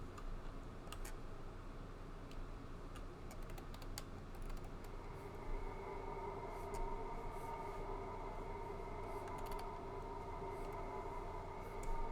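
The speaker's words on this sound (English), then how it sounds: "as this train pulls into Plains Terminal" A steady rumbling Minecraft video game train pulling into a station, with rhythmic clicking and rattling, continuous and fairly close, with no voices.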